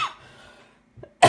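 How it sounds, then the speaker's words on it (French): After a near-silent pause, a single sharp cough bursts out close by. "oh là, je tousse"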